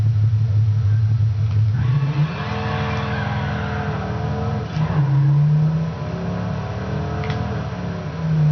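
A car in the video game Midnight Club LA accelerates from zero to 60, the engine revving up through several gear changes with loud, steady roar and brief shift dips.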